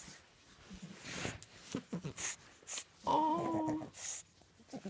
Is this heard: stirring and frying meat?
no